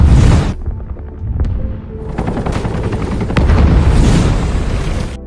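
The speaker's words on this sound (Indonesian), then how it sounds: "Helikopter tersebut lalu mulai menjatuhkan beberapa bom ke dalam laut untuk membunuh Megalodon." A helicopter drops bombs into the sea in a Megalodon film, with heavy, loud booming blasts and rumbling explosions over a steady thudding roar that rise and swell across several seconds.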